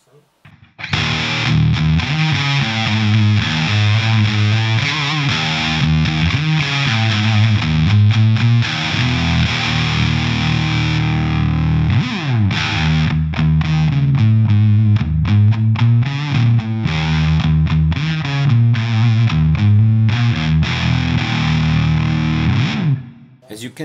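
Electric guitar played through a Wichcraft Model T pedal set to sum mode, giving a loud, continuous distorted tone with strummed chords and sustained riffs for over twenty seconds, no talking.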